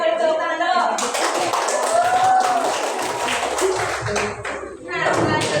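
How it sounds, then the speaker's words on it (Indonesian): Classroom applause in a lesson: students clap in a dense, fairly close burst that fades and returns in waves, with a few voices and taps mixed in. "Terus kita beri tepuk tangan dulu."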